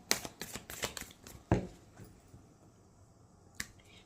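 Tarot cards are drawn and flicked from a deck, a quick run of crisp snapping clicks followed by a sharper slap and one more card snap after a pause, close and fairly quiet.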